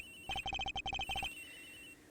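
Rapid electronic phone ring from the video game Ace Attorney Investigations, a quick run of about a dozen pulsing beeps in one burst, then a fading tone, moderately loud with no voices.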